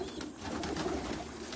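A large female pigeon coos low and soft amid steady background hum and noise, a continuous murmuring call with no speech.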